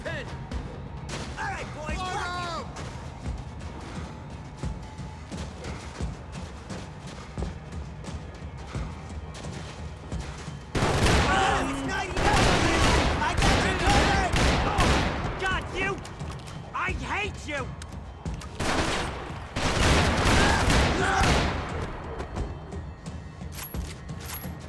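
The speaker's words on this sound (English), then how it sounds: "Gunfire over Hoboken." Bursts of rapid gunfire erupt twice in Max Payne 3, loud and dense, amid quieter mechanical game sounds and occasional voices.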